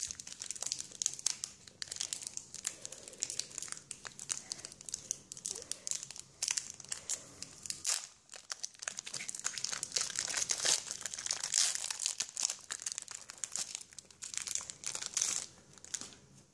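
A Pokémon EX Emerald booster pack wrapper is torn open and handled, giving a long run of close, busy foil crinkling and crackling with short tearing bursts and a brief pause midway.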